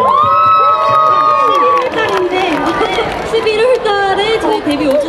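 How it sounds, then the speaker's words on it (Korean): Loud crowd cheering and shouting from a rock festival audience at an outdoor public broadcast show in Pyeongtaek, a dense continuous roar with a raised voice rising over it at the start. "여러분 박수 한번 부탁드릴게요"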